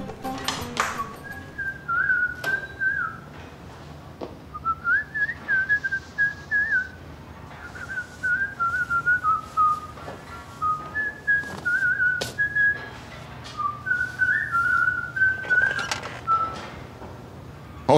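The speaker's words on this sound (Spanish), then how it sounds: "Es que no te había visto silbando alegremente." A person whistles a cheerful, meandering tune in short phrases, clear and close, with faint background sounds between notes.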